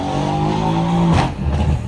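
A Mercedes C63 S AMG coupé with a 510-horsepower 4-litre biturbo V8 holds a steady, loud engine note, then gives a sharp rev burst and a rougher, throaty tail. No one talks over it.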